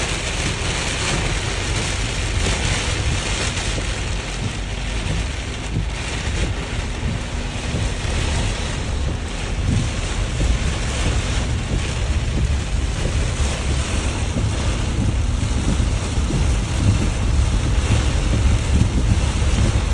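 Heavy rain pours down in sheets in a steady, dense roar that runs unbroken throughout, with wind buffeting the microphone and no voices.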